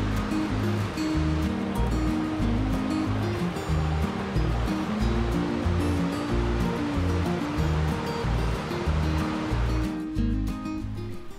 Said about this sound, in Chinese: 下来到水车旁边又是一个清澈的小溪